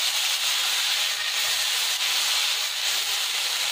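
Vegetables sautéing for a crunchy Indian street-food Chinese bhel, tossed or stirred in a hot pan: a steady loud sizzling hiss with faint scraping, continuous throughout and with no talking.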